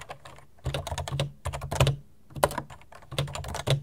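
Rapid typing on a mechanical keyboard, either an IBM Model M or a Topre Realforce 87u, including deletions, heard as close, loud bursts of clacking keystrokes with deeper thocks and brief pauses, without talk.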